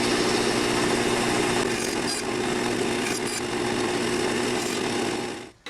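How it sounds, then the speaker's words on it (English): A power saw cuts through light-coloured cork, shaping it into pie-shaped pieces for a fly rod grip, with a steady loud whine and rasp that holds for several seconds before stopping abruptly. "now we're going to cut the light colored cork into pie shapes"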